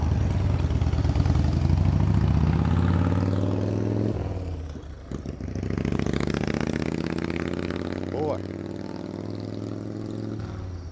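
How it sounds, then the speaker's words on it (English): A loud motorcycle engine rumbles and revs nearby, its pitch rising and falling as it passes, with a brief dip midway. "loud motorcycle."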